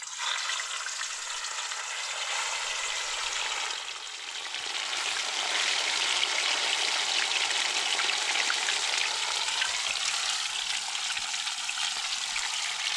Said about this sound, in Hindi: फ़िश डालते हैं अंदर फ्राई करने के लिए।